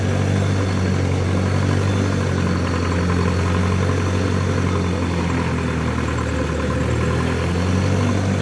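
A homemade tractor's engine runs steadily while driving home from a river, a loud continuous low drone with a constant hum, no voices over it.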